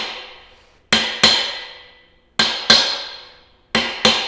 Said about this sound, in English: He's working on driving bushings out now